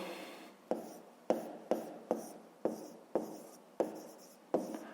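Chalk or pen writing out a math inequality for a fifth-grade exercise, a quiet sequence of about nine sharp taps, each trailing into a brief scratchy stroke, with no talk.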